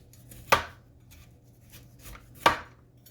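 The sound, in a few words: knife slicing chunks off horseradish root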